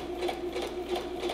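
A sewing machine runs steadily through a long basting stitch along the side of a turned quilt top, its fast, even mechanical whir continuous and close with no pauses or voices.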